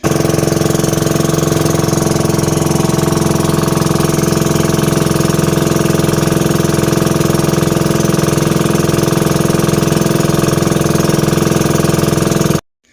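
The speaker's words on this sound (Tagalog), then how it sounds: "Pakinggan nyo na rin po yung sounds ng motor para po ma-feel ninyo na kasama kayo namin" Motorcycle engine running steadily while being ridden toward a farm, a loud continuous drone with wind rush throughout, no voices.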